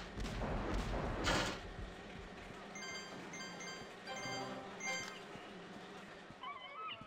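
Bursts of gunfire crack and pop repeatedly amid electronic beeps and tones in the video game Captain Claw, like a busy shooter game soundtrack.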